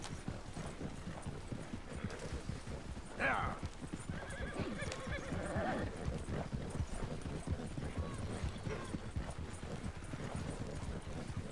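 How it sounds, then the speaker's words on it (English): A horse in the video game Red Dead Redemption 2 clip-clops along at a steady hoofbeat rhythm, with a whinny and some snorting, mid-level and continuous beneath occasional game sounds. "Is my horse still following?"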